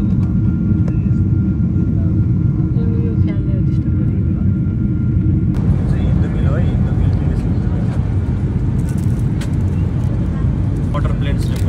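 Thai Airways passenger jet on the ground before takeoff from Kathmandu, a steady low engine rumble that grows brighter and louder midway through, heard from inside the cabin with faint voices underneath.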